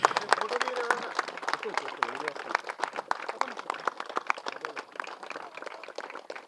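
Audience applause at a pyramid anniversary gathering, a sustained crowd of hands clapping in a fast irregular patter, moderately near, with voices talking underneath.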